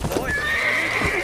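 A horse whinnies in the Red Dead Redemption game, a loud close neigh with clip-clop hoofbeats under it, brief and without talk.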